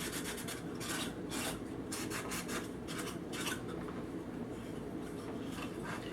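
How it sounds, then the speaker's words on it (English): Wax being wiped and buffed on a painted, distressed wooden type case: a steady, continuous rubbing and rasping with quick strokes, close and fairly loud, with no talking. "Go back in and wipe it, buff it."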